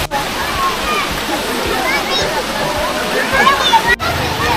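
Water rushing steadily down through pools inside Miabo Cave, a loud, continuous splashing flow close by with a broad, hissing wash that barely changes over several seconds.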